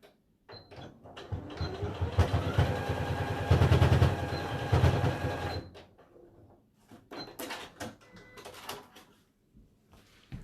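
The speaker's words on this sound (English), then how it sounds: "Try to form a triangle and just sew it down." A sewing machine runs in bursts as it stitches down a triangular fold on a DIY reusable fabric popcorn bag, whirring steadily for a few seconds, then stopping and starting again amid close handling clicks and rustles.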